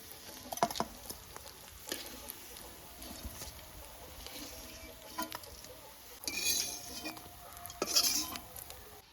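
Fish fritters lifted out of a pan of hot oil: a soft sizzle underneath, with clinks of a metal spatula against the pan and a couple of brighter scraping bursts, no talking.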